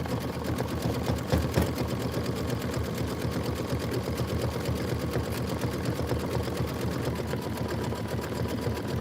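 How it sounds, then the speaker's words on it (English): An embroidery sewing machine stitches steadily while a home-sewn tiled scene is made, a rapid even mechanical chatter of the needle with a faint motor hum, consistent and fairly quiet. "Momo, the embroidery arm's going to hit you"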